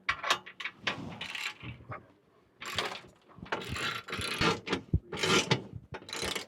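Bolts on a Honda CR-V skid plate being run in and snugged by hand without a torque wrench, giving quick bursts of ratcheting and metallic clicking with short pauses, close and fairly loud.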